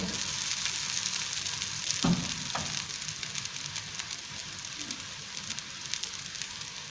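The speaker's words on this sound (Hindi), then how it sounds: "ये हो रहे हैं हल्के हल्के फ्राई।" Kebabs fry in ghee with a steady, close sizzle and crackle that runs the whole time. A brief scrape or stir breaks in near the middle, and no one talks.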